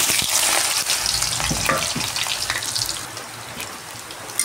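Potatoes crackle and hiss steadily in hot oil tempered with dry red chilli, five-spice and bay leaf, a close, dense sizzle with occasional stirring scrapes throughout.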